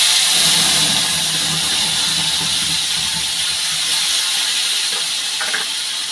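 Paneer and spices fry in a pan with a loud, steady sizzling hiss that fills the whole stretch, with no voices.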